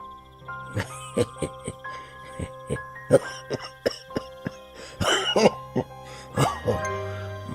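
An old man in an animated Bengali horror story coughs repeatedly in short harsh bursts with throat clearing, close and distinct, with faint crickets and a low hum in the background.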